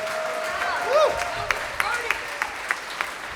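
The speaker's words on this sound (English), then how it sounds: "let's have another round of applause for the Stanley Middle School Jazz Messengers" Applause from a school jazz festival audience for a middle school jazz band, scattered claps spiking under a whooping voice and crowd chatter, thinning into separate sharp claps toward the end.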